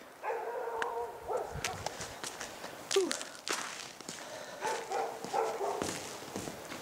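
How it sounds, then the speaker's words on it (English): A dog barks from a house up on a hill, several faint distant barks scattered among footsteps and quiet rustling outdoors. "There's some house up there on the hill, like, and there's a dog barking."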